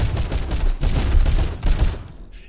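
Dense bursts of rapid gunfire in the video game Sunkenland, crackling in quick succession, loud and close, trailing off toward the end.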